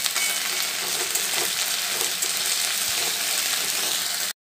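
Ginger garlic paste frying with browned onions in a pan for a home-style chicken masala curry; a dense, steady sizzle and crackle, close and fairly loud, with faint stirring scrapes and no voices.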